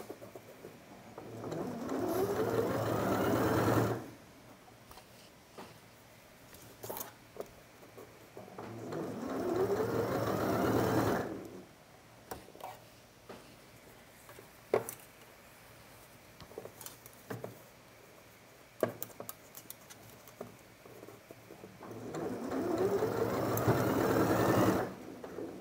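A sewing machine stitches fabric in three long bursts of steady whirring, close and fairly loud, separated by quiet pauses filled with small clicks and handling noises; no one speaks.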